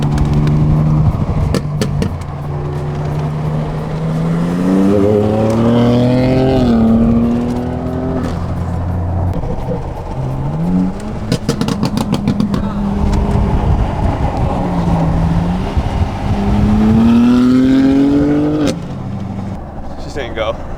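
A BMW M3 engine revs hard in a roll race and climbs through the gears, whining upward in pitch in repeated surges, loud and close, with voices talking over it.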